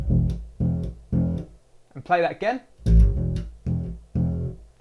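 Bass guitar plays the opening part of a riff: short plucked notes, then a brief spoken phrase, then the figure again, ending in three even quarter notes, close and dry.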